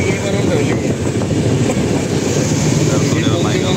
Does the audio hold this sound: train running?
yes